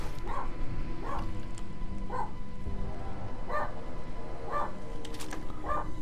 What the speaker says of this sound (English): I'll have to go check what the hell is he's barking at.